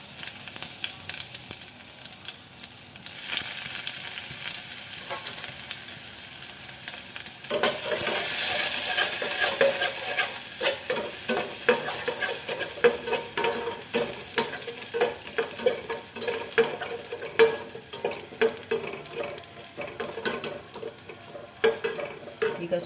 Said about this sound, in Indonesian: Saya akan tumis dulu bawang putihnya dengan minyak secukupnya